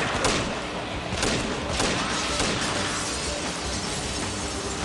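A freeze shot shatters enemies in a Nintendo action game shown at E3 2006: dense, loud bursts of crackling, glassy breaking and thuds in quick succession over a busy game soundtrack.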